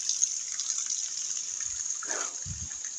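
Water flowing steadily from rocks toward a river, a continuous soft rushing hiss with a couple of low thumps near the end, with no talk.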